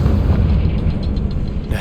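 A Confringo blasting spell detonating in Hogwarts Legacy, a loud, deep booming explosion that rumbles on for nearly two seconds, close and heavy with no voices over it.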